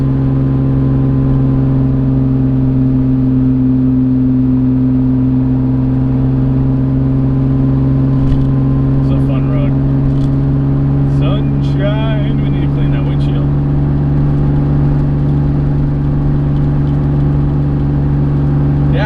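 A Porsche 911, once flood-damaged and just taken out of the garage for the first time this year, drives on Michelin tyres with a steady loud engine drone throughout, while a voice talks over it.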